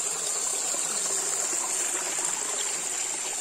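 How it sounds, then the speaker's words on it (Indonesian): A small forest stream in woodland near Baubau, Southeast Sulawesi, flows steadily with a continuous broadband rush and trickle, even and unbroken throughout, no voices over it. "airnya mengalir."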